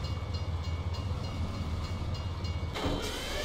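A freight train rolls along in the Farming Simulator 17 farming game, giving a steady low rumble with rhythmic clatter. Near the end a brief, brighter burst of noise rises above the rumble.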